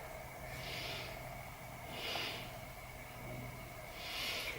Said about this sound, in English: Let's take a few breaths here.